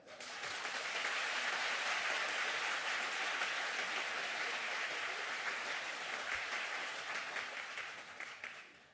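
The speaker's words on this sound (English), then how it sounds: "So please join me in giving a warm round of applause to the forever young Professor Edward Chen." An audience gives sustained, dense applause for Professor Edward Chen. The clapping stays steady and full throughout and tapers off at the very end.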